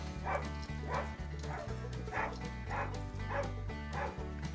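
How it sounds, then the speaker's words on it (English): A dog barks outdoors in a quick, repeated run of yips and woofs, heard steadily behind a strong low hum throughout. "I can hear a dog outside barking."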